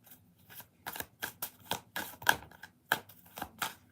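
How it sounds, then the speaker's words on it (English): Tarot cards shuffled by hand during a reading, a run of about ten crisp riffling bursts in an uneven rhythm, close and clear, with no voices. "2 more shuffles"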